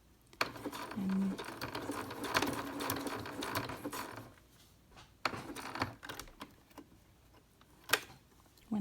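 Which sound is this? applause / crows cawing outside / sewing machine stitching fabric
sewing machine stitching fabric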